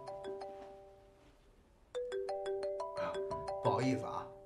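A mobile phone rings with a bright, repeating melodic tone that starts softly, then grows louder and steadier, while voices talk over the final second.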